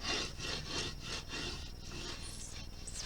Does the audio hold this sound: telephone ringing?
no